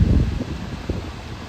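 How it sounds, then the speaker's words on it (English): Gusty outdoor wind in North York, Toronto, rumbling loudly against the microphone with faint rustling of leaves, a brief continuous blast. "It's far more windy actually in North York."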